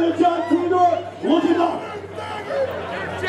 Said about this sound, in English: Drennen's really standing up to this capacity crowd here at Mayhem and Mills, unafraid to stand up to the boos and jeers